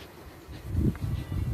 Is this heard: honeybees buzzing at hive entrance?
yes